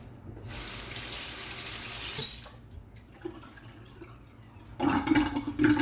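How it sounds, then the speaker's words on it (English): Hands rinsed under a running kitchen tap: a steady hiss of flowing water that drops away, then a splashier burst of water near the end, with no voices. "Let me rinse my hands."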